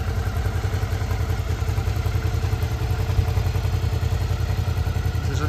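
A nearly new, barely run-in Suzuki DL650 motorcycle engine idles steadily up close, a continuous loud rumble with a light mechanical clatter and no talking.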